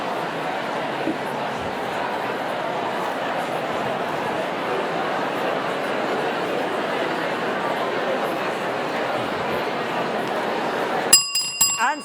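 A bell rings briefly at the end to signal a swap between partners at a networking session, following a long stretch of loud room chatter; several sharp rings cut through the babble.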